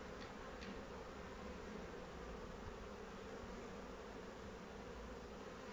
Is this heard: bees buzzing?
yes